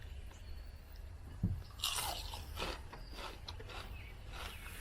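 Crunchy bites into crispy fried enoki mushroom dipped in sauce, a sharp crunch followed by a few crackling chews, close and fairly quiet.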